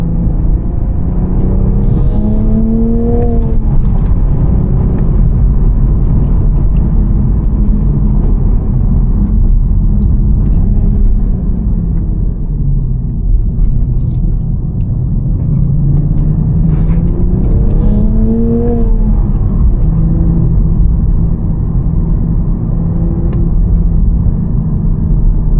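A 2024 Toyota GR Supra A91 with a manual gearbox being driven, its engine producing a constant loud cabin rumble with rising and falling revs as it accelerates and shifts.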